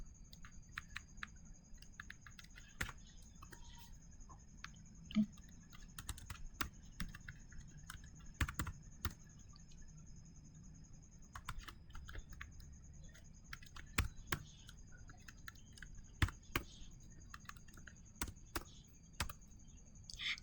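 Router commands being typed on a computer keyboard for a Cisco network setup: a steady run of close, crisp key clicks with irregular rhythm and occasional louder taps over faint background hiss.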